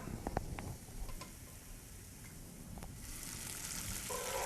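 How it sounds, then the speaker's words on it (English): A faint, steady sizzle of beef frying in a hot pan, with a few soft clicks and no talking. "You hear the sizzling?"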